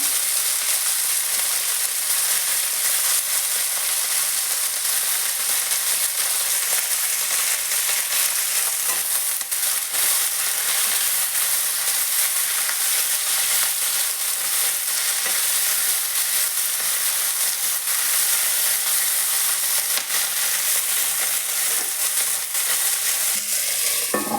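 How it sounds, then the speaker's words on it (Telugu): Drumstick leaves tossed into a pan of already browned onions fry with a steady, loud, close sizzle that runs unbroken, with faint stirring clinks now and then and no talking. "ఇప్పుడు క్లీన్ చేసి పెట్టుకున్న మునగాకు మొత్తం వేసుకుని వస్తాము"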